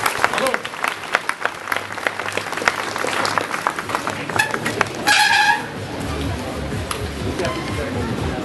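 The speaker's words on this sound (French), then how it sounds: "On applaudit s'il vous plaît" Audience applause breaks out at an elite trial bike final in Clisson, with fitful clapping and crowd noise that swells briefly, while an announcer talks over it.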